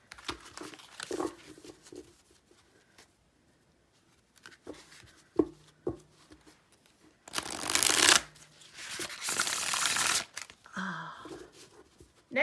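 A tarot card deck being shuffled by hand, a series of soft riffling card flutters and taps, close and quiet, with two longer rushing riffle bursts in the middle and a faint breath at the end.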